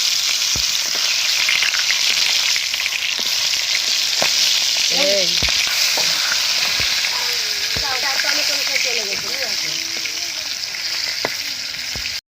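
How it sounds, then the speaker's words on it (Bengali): Singhi fish frying in hot oil in a wok, a steady loud sizzle throughout, with occasional utensil clinks and brief faint voice sounds in the background. "তো আমাদের শিঙি মাছগুলো ভাজা হয়ে গেছে"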